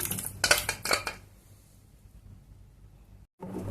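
Gongura dal is mashed in a metal pot, with a cluster of close scraping and clinking strokes at the start, a quiet stretch after, and another burst of mashing at the end.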